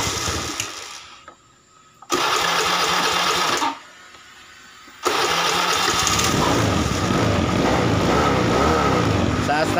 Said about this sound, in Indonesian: Nah, kemudian turun dan motornya mati ya. Sulit hidup. Kita starter lagi.